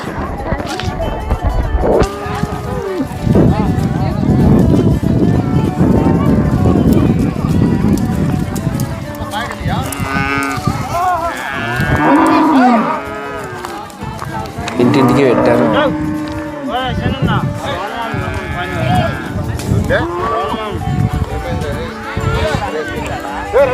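Decorated, mostly Jersey cows moo repeatedly among a busy Kanuma festival crowd, with people talking and some hoof clatter nearby; the lowing rises over the chatter several times.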